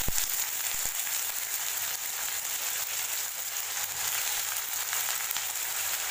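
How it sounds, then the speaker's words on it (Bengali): Chopped onions frying in hot oil in a home kitchen pan, a steady close hiss of sizzling that carries on without pause and with no talk. "তো পেঁয়াজটা যতক্ষণ অব্দি না লাল হয়ে ভাজা হচ্ছে, একটু লাল লাল করে ভাজতে হবে।"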